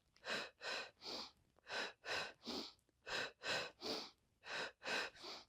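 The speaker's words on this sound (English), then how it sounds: "you can do the Pilates staccato breath" Pilates staccato breathing during a mat workout: close, forceful breath puffs in four quick sets of three, each set separated by a short pause, with no talking.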